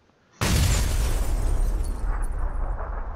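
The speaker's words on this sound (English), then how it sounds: "that wasn't just one grenade, that was two" A video game grenade blast erupts abruptly after near silence, a loud, close, broadband boom that rolls on in a dense, rumbling wash; the two separate detonations are not clearly distinguishable.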